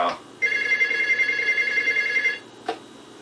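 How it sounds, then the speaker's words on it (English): A telephone bell rings once in a sustained, buzzing trill lasting about two seconds, fairly close, with brief clicks before and after. "let's try ringing them up again"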